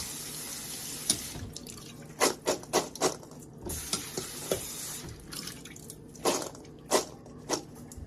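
Tap water runs steadily into a sink while cranberries get rinsed, with intermittent splashes, drips and squishy handling sounds close by.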